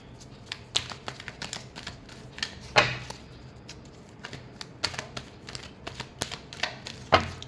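Tarot cards being shuffled during a Libra reading: a run of crisp, irregular riffling snaps and flicks, fairly close and moderately quiet, with a couple of sharper slaps, no talk.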